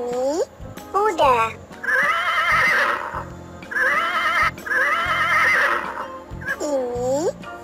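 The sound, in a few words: horse neighing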